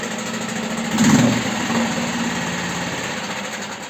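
A Mercury 6 hp four-stroke outboard motor catches on a pull start and settles into a steady, buzzing idle, with a brief louder surge as it fires before running evenly and close by, no talk over it.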